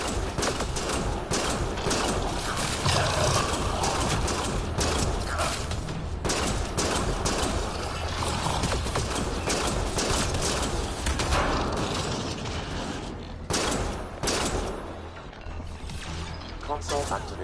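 Steady gunfire rattles through a firefight in Mass Effect: Andromeda, dense bursts of shots and impacts continuing for the whole stretch, with game voices talking over the battle.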